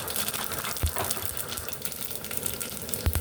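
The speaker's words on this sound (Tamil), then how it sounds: "எண்ணெய் சூடாகி கொதித்ததும் கடுகு போடுவோம்." Mustard seeds and spices fry in hot oil with a soft continuous sizzle, broken by a few light pops and clatters nearby, and no talking.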